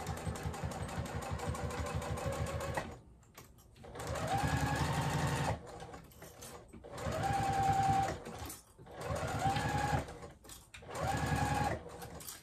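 A sewing machine runs in several bursts while stitching the seam of a tote bag, its motor whirring loud and steady, pausing briefly between runs and changing pitch as it speeds up and slows down.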